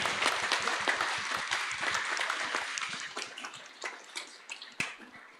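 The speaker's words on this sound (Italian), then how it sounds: "facciamogli un applauso" A church congregation applauds during a Sunday baptism service, a dense run of clapping that thins into scattered, uneven claps before fading, with a few sharp individual claps near the end.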